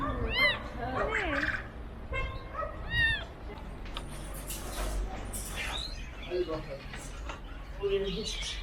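A rescued kitten, just pulled from under a car's hood, meows in repeated high rising cries close by, with people talking and street noise around it.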